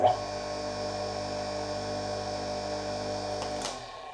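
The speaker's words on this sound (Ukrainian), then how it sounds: "Вмикаємо насос в розетку, піднімаємо поплавок догори." Delta drainage pump switched on and running, a steady electric hum with whining motor tones that holds evenly for several seconds before cutting off near the end.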